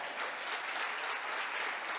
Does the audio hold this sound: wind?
no